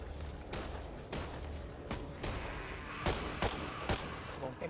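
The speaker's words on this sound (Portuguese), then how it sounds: "Peguei uma M1 Garand, cara, muito boa" An M1 Garand rifle in the zombie shooter Back 4 Blood fires single sharp shots at an uneven pace, about seven loud cracks over a few seconds with short gaps of game ambience between.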